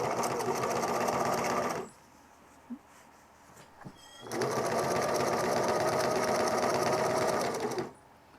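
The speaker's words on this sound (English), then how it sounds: "we're going to test it with the straight stitch" A Singer 9420 sewing machine running a long straight stitch in two loud, close bursts of rapid, even stitching, separated by a couple of seconds of near silence with faint handling noises.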